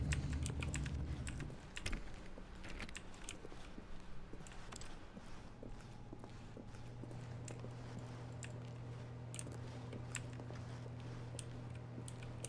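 Keyboard clicks from The Stanley Parable video game patter in quick irregular bursts, fairly quiet and close, with a low hum underneath.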